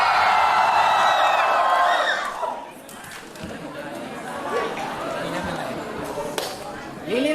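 A crowd at a Filipino rap battle shouts and cheers loudly at first, then settles into a steady murmur of chatter with scattered whoops, while a host calls out over them.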